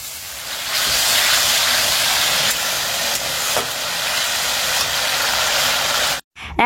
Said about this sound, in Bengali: প্রথমে মাছটা ভাজা করে